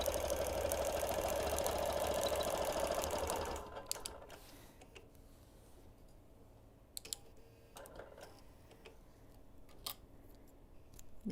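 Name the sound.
longarm quilting machine stitching a quilt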